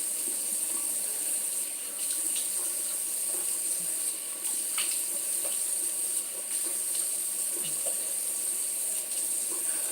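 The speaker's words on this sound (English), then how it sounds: "and I'm rinsing this with cold water." Cold water runs steadily from a sink tap as a face is rinsed, a continuous near hiss with small splashes and drips over about ten seconds and no talking.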